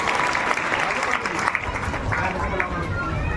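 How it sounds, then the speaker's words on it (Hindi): An audience claps for a dholak player at a stage event, with sustained, dense applause mixed with crowd chatter and babble, fairly loud and close throughout. "इनके लिए ताली जोर से बजाइए"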